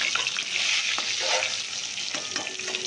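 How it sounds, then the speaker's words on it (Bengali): Fish head frying in oil with salt and turmeric gives a continuous bright sizzle and spatter, steady and fairly close, with no voices. "মাছের মাথাটাকে নুন হলুদ দিয়ে ভেজে নেওয়া হয়"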